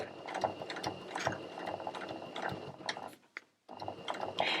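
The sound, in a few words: sewing machine stitching oil cloth fabric layers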